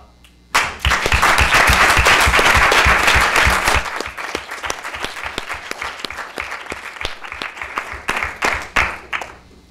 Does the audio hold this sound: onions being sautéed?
no